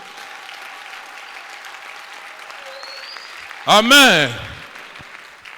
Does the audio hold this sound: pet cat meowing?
no